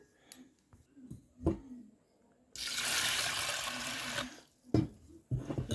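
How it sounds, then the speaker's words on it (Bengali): Sago pearls washed with water in a cooking pot in a home kitchen: a steady splashing, rushing wash of water lasts a couple of seconds mid-clip, framed by soft knocks and handling sounds, with faint talk nearby. "প্রথমে সাবুটা আমি আগে 3 থেকে 4 বার ভালো করে ধুয়ে নেবো"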